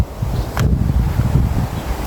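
Strong wind gusts in a historic 2025 snow storm buffet the microphone with loud low rumbling, broken by short rustling bursts of tree branches and leaves, steady and close for the whole stretch.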